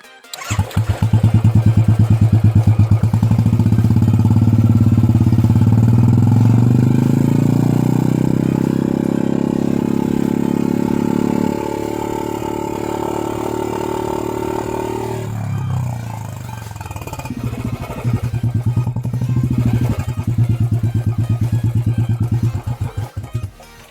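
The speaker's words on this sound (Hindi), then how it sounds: "let's start the bike and see how it sounds and ये कितना डेसिबल तक जा सकता है" A stationary Royal Enfield Bullet ES 350 BS6 motorcycle with a changed silencer idles loudly close by, revs up in a rising sweep, drops back, then settles into a steady thumping idle.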